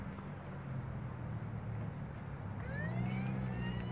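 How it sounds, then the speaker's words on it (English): A toy Power Wheels Silverado police truck sounds its electronic siren, a rising wail that starts partway through over steady background noise, fairly quiet and close. "It's got the police siren on it."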